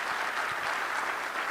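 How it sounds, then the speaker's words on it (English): Audience applause for Tara and her staff after a chamber event: a steady, dense wash of clapping at moderate level, unbroken for the whole short span. "So let's give a big round of applause to Tara and her staff."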